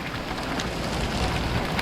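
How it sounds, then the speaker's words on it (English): Steady rain falls outdoors as a dense, even hiss of drops on surfaces, constant and close throughout, with no talking. "It's really raining right now."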